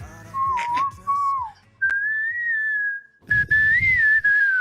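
Two people whistle the catchy pop hook of a song in turns, a clear melodic tone sliding up and down, with short pauses and a louder, busier second attempt over faint room noise.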